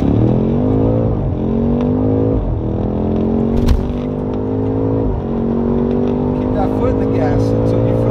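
A 900-horsepower BMW M5 launches hard and accelerates, its loud engine note climbing through rising gear pulls with brief shift dips, close and dominant throughout.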